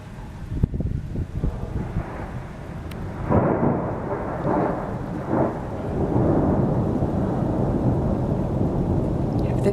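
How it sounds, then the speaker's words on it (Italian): Powerful thunder rolls through a thunderstorm at Quartu Sant'Elena, with loud, heavy rumbles swelling and fading repeatedly over steady rain and microphone wind noise, and no voices. "Avete visto quanto sono potenti i tuoni?"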